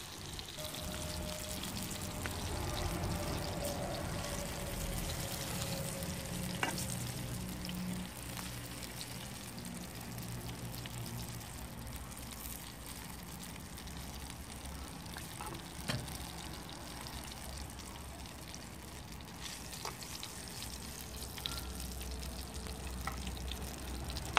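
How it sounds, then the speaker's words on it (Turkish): Steady, quiet sizzling and crackling of peppers frying in plenty of hot oil on a wood-burning kitchen stove, with a few faint clinks and bumps along the way. "Kapağı açıp bol yağda kızartma."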